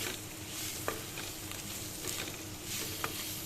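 Fish sizzles steadily in a pan of oil while being cooked for a sour fish curry, a dense crackling hiss close by with occasional soft stirring taps and no talking.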